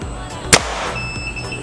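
A single sharp, loud air rifle shot cracks out, followed by a brief metallic ring and quiet room noise.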